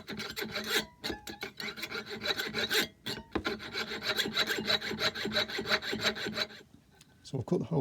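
A hand saw cuts steadily through a clock lock plate, its strokes rasping in a quick, even rhythm. It pauses briefly near the start and again midway, then stops at the end, close and fairly loud.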